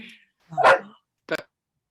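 Long-eared dogs play together indoors, giving two short excited barks about half a second apart, close and fairly loud with quiet between.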